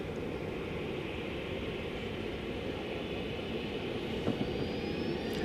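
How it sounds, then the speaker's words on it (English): An American Airlines Boeing 737-800 bound for Tulsa taxis and turns at an airport, its engines giving a quiet, steady distant drone with a faint rising whine, heard alone. "American Flight 1514 is bound for Tulsa, Oklahoma, 737-800"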